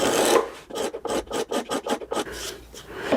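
A scratch stock scrapes along the side grain of a wooden board in about ten quick, rhythmic rasping strokes, close and dry, with a longer scrape at the start and no voices.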